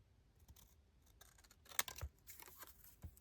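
Scissors cutting off a piece of paper while making an interactive journal page, with a few quiet snips and crinkles, close and faint, the sharpest cut near the middle.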